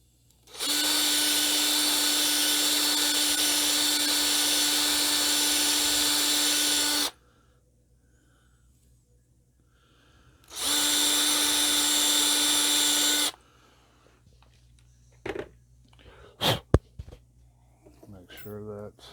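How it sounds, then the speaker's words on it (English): A power drill boring out the back of a part during a gasser car restoration, running in two loud, steady whining bursts, one about six seconds and a shorter one later, followed by a few light clanks and knocks. "So I'm going to go ahead and take this and drill the back of that out."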